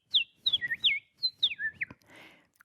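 A human voice whistles a series of short, sweeping chirps imitating birdsong, with brief pauses between phrases, close and clear.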